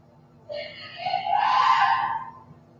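A drawn-out scream on a paranormal EVP recording rises over steady low hum, loud and sustained for about two seconds.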